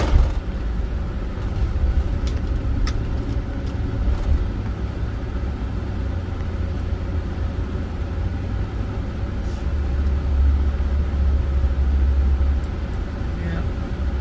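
A car cruising along a quiet country road, its engine and tyre rumble a steady low drone heard from inside the cabin for the whole stretch.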